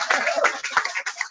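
An audience claps at a live event, a dense, steady patter of many hands that stays fairly close and fills the short stretch with no talking.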